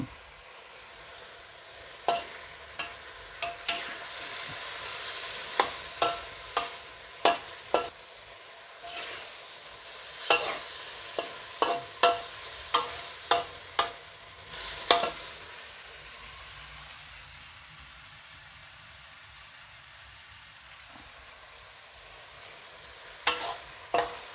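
Sweet and sour pork and shrimp with tomato and cucumber stir-fry in a pan, a soft continuous sizzle broken by repeated sharp clinks of a spatula scraping and tapping the metal.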